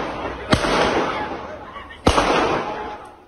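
Two sharp gunshots crack a street shootout in Esenyurt, Istanbul, each a loud sudden bang about a second and a half apart followed by a long echoing decay.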